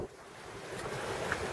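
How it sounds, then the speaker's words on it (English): Strong wind of about 20 knots roars across the microphone at sea aboard a boat, with waves of roughly four feet and whitecaps washing steadily beneath it, a continuous broadband rush with no speech. "quite strong wind. It's still blowing 20 knots."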